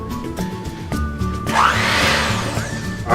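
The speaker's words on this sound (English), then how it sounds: "Alright, we've got our blender set up here. We're just going to start off with a nice slow, easy blend." A kitchen blender whirs on a sweet potato casserole mixture made with orange juice and half and half. It starts in short bursts, then runs into a sustained, rising, close whine.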